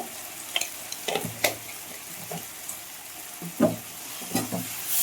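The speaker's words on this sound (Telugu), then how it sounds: "పసుపు వేసుకున్నాక కొద్దిగా వేయించుకోవాలి" Potato and brinjal masala fries with turmeric in a pan as a spoon stirs it in sporadic scrapes and taps over a low, steady sizzle, close by and without talking.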